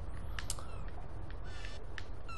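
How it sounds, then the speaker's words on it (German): Seagulls (Larus albus) call in the video game Beyond Good and Evil, giving a few short, scattered cries over a steady low ambient rumble, fairly faint and with no talk. "Larus Albus. Seemöwen."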